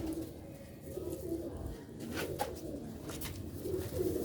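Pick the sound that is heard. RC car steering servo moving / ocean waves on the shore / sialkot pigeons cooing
sialkot pigeons cooing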